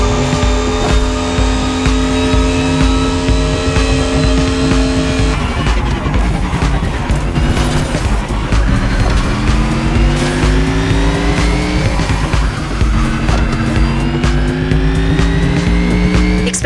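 Supercars racing in The Crew Motorfest on a long island course, a loud continuous engine roar with rising and falling gear changes, tire squeals and skids throughout, no talk.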